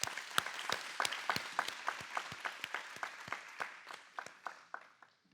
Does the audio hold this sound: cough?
no